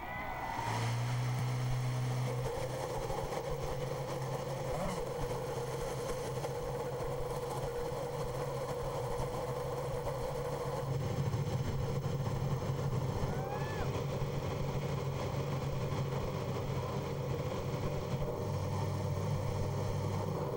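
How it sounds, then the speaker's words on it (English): IndyCar race car engines started and idling together at Watkins Glen's road course during the 2009 Camping World Grand Prix, a loud steady multi-engine drone with occasional revs rising and falling throughout. "So the engines have come to life"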